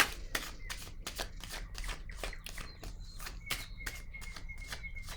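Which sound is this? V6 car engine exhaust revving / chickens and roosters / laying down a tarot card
laying down a tarot card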